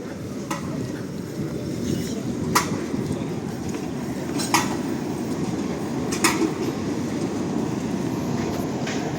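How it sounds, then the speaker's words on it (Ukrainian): A tram in Lviv rumbles past on rails, a steady low roar with a few sharp metallic clicks and clacks at irregular intervals. "трамвайчик іде"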